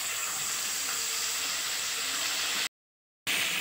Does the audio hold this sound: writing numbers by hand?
no